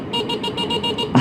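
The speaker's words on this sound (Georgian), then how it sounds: "რა საყვარელი სიგნალია ბიჭო." A thick-wheeled electric scooter horn beeps in a quick run of about seven short, even tones, close and loud, ending with a brief thump.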